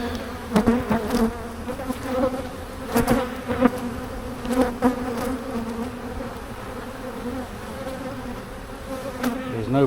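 Honey bees buzz steadily and loudly close by during a hive inspection of a large colony, a dense droning hum with individual bees swelling louder as they pass near, continuous for the whole stretch with no talk.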